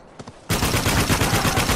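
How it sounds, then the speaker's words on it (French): Pump shotgun gunfire in a video game, a loud, dense burst of blasts that erupts suddenly after a brief quiet moment and continues to the end. "Ennemi armé d'un fusil à pompe!"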